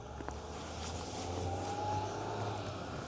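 A car drives past on a town street in Azerbaijan, its engine note swelling as it nears and easing off again, heard at moderate distance over low traffic rumble.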